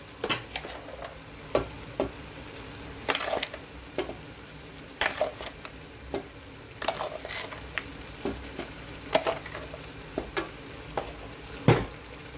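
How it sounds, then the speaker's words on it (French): A spoon scrapes and knocks around a pot of softened onions cooking with sugar, steady sizzling beneath irregular close stirring clatters, with no talking. "je ne vais pas arrêter de remuer"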